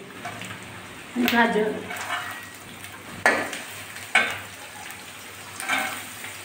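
Chopped carrots fry in a pan for vegetable fried rice. A steady low sizzle is broken by four louder bursts of stirring and scraping, spaced a second or two apart.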